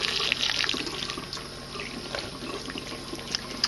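Steady running tap water splashes into a sink, with a continuous hiss and a few brighter drips and splashes near the microphone, and no voices.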